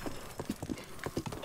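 Horse hooves clip-clopping in The Legend of Zelda: Breath of the Wild, a quick uneven run of crisp hoof strikes at moderate distance, fairly faint and without talk.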